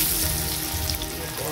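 Chicken and potato pieces fry in oil in a pan over low heat, a short, close burst of steady sizzling and crackling.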